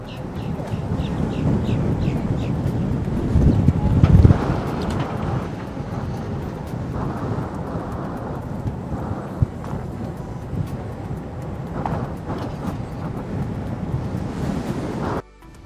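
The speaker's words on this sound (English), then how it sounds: "Why does it always have to be windy when I want to sit down?" Heavy wind buffets the microphone in a constant rumbling roar, gusting louder for a moment, with faint outdoor noise beneath.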